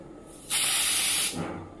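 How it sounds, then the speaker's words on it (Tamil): A continuous burst of dry shampoo from an aerosol can, sprayed from about eight inches away, hisses loudly and steadily for under a second against a quiet room background. "இந்த ஸ்ப்ரேவை ஒரு 8 inches அளவுக்கு டிஸ்டன்ஸ்ல வந்து ஸ்ப்ரே பண்ண போறீங்க"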